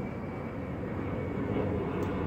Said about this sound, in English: the plane just went by